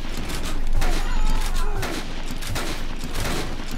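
Rapid machine gun fire rattles in bursts in the zombie video game Dead Rising, loud and dense, with someone talking over the shooting.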